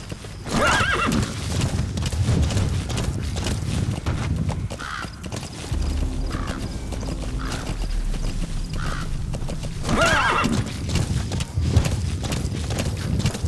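Hooves clatter in a steady galloping rhythm for several seconds, with a horse whinnying a few times along the way, in the video game Metal Gear Solid V: The Phantom Pain.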